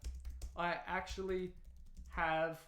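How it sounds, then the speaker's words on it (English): Quiet, rapid typing on a computer keyboard, with a voice sounding over the clicking. "I'm power typing"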